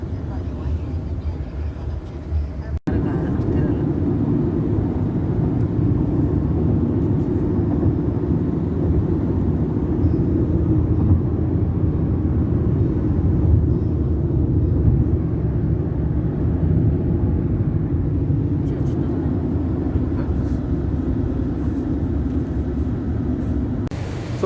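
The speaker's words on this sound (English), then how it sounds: "So in the taxi now, heading towards the airport." A taxi in Dubai carries a passenger toward the airport, its cabin filled with a steady road and engine drone and a sharp thump early on, with a voice now and then over it.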